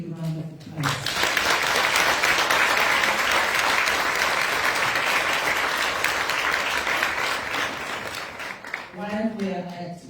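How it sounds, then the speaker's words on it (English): Audience applause at a keynote address fills the room, steady and loud for about eight seconds, with a speaker's voice heard briefly before and after. "Let us give them a big round of applause."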